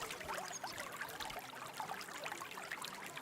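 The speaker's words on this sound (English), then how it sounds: "This seems like drinking water." Water trickles steadily at a drinking spot in the video game Kingdom Come: Deliverance II, a soft, continuous babble with small splashes that is heard alone at low volume.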